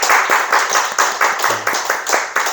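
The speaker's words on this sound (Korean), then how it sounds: "어쨌건 힘내라고 박수." Congregation clapping during a Sunday church service, a steady run of loud, close applause with rhythmic hand claps throughout, no talk over it.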